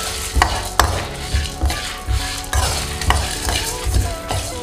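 Dry red chillies frying in a little oil, a loud close sizzle with repeated stirring scrapes and clinks of a spoon against the pan, and no talk.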